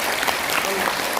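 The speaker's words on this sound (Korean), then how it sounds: "자, 박수 한번 부탁드립니다." Dense, steady applause from an audience, a continuous wash of clapping throughout with a faint voice underneath.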